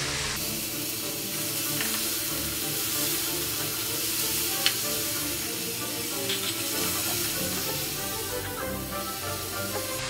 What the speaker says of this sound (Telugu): ఈ అల్లం వెల్లుల్లి పేస్ట్ కొంచెం ఫ్రై అయ్యాక టమోటాలని వేసుకొని ఫ్రై చేయాలి